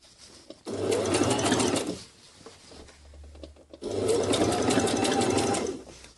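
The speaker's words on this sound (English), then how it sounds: "I'm just going to run a zigzag stitch all the way through on the edges" A sewing machine runs a zigzag stitch along the edges of a garment being altered, in two steady, close bursts of rapid whirring and clatter with a short quiet pause between them.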